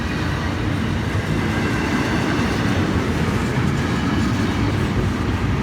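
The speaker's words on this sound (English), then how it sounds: "this is the daily hotshot train from Bowden Yard in Jacksonville" A Florida East Coast hotshot freight stack train bound from Bowden Yard in Jacksonville toward Miami rolls past at Stuart, a loud, steady rumble of wheels and cars with faint clickety-clack and no voices.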